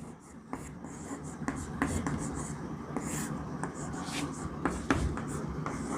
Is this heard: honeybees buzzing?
no